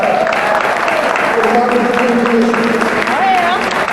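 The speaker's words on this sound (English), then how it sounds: "Y'all give a round of applause." A crowd at a 100 Black Men of Greater Little Rock event applauds steadily throughout, a dense wash of clapping with voices and cheers mixed in.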